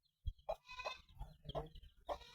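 A hen near her chicks gives a quiet series of short, soft clucks at an irregular pace, heard faintly at low volume.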